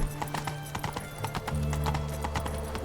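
Horse hooves clip-clopping in The Witcher 3, a steady rhythmic trot of close, distinct hoof strikes with an occasional whinny, over a low droning in-game background.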